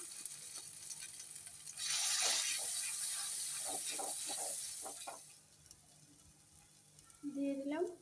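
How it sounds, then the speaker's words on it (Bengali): Ground lentil paste dropped into hot oil with five-spice seasoning, a sudden loud sizzle that flares up then fades, with stirring clatters, and a voice speaking briefly at the end. "দিয়ে দিলাম বেটে রাখা ডালটা"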